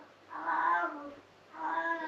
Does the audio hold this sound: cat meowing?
yes